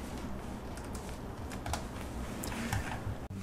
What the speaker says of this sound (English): Go ahead and type in Musescore plugins.